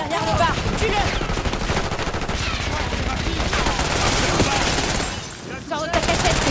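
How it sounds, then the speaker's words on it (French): Sustained machine gun fire rattles continuously and loudly in Call of Duty Black Ops 6, with dense overlapping shots and a brief dip near the end before the firing resumes. "Mitrailleuse."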